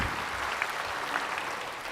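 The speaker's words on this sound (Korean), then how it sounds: "우리 백악관과 바이든 대통령에도 박수 한번 해주세요." An audience at a church service claps together in a dense, steady round of applause that fills the room, even in loudness, with no speech over it.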